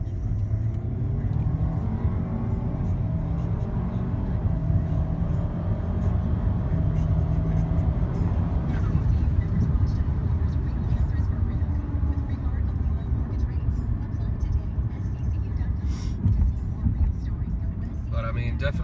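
An Audi A4 B8 with a Revo stage 2 tune and bolt-on parts makes a hard full-throttle pull. The engine drones loud and steady from inside the car, its pitch rising slowly.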